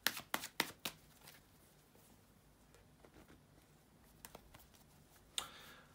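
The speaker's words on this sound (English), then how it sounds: "bear with me a second, guys, to shuffle the tarot cards" A few quick bursts of card shuffling at the start, then quiet rustling, and another short riffle near the end; close and fairly soft.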